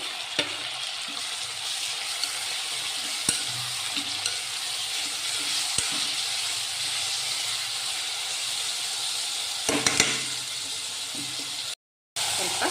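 Chopped vegetables fry with a steady sizzling hiss in a pan for palak rice, with occasional stirring scrapes and knocks, close by and fairly even throughout.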